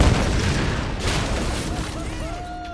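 Explosions boom and rumble through a collapsing area in the video game Tomb Raider (2013), a dense, loud burst that fades into lingering rumble and debris, with a voice talking over it.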